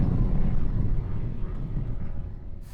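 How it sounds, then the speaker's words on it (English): A fixed-wing airplane passes overhead outdoors during an Iowa bowhunt, a steady, loud low rumble that slowly fades over a few seconds, with wind noise and no talking. "convenient time for a plane to come flying over"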